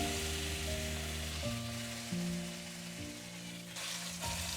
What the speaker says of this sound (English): Sear the beef on all sides to lock in those juices.